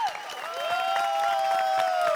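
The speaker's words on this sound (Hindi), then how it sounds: "तालियां तालियां।" Short burst of applause on the set of the Hindi sitcom Taarak Mehta Ka Ooltah Chashmah, steady and moderately loud, mixed with sustained tonal music or a whistle running over it.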